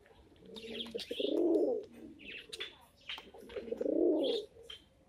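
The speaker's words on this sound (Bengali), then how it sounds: "দেখুন পায়রার কোয়ালিটি লক্ষ্য করুন" A pair of pigeons cooing up close, two long, swelling coos separated by softer calls and small chirps, with no talk.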